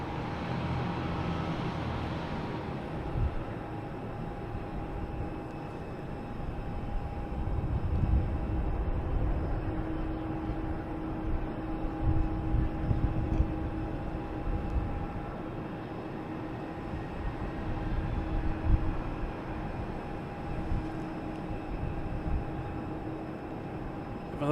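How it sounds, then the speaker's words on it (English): A Delta Airbus A330 heading to Paris takes off from Boston's Logan airport at dusk, a distant, low rumbling jet roar swelling and fading under a steady hum, faint and continuous. "So our big Delta, there we go. Delta A330 heading to Paris."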